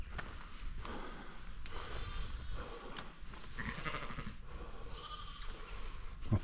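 Black sheep and lambs bleating beside a barn on a Yorkshire Dales walk, several calls rising over steady wind and outdoor rumble, fairly close, with no talk.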